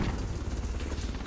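Bomb being planted in Call of Duty Modern Warfare during Search and Destroy, a steady mechanical ratcheting, clicking rattle, close and fairly quiet, running without pause and with no talking.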